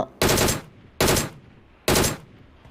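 Automatic gunfire in a shooting video game rings out as three loud, evenly spaced bursts, each a short rapid volley with quiet gaps between.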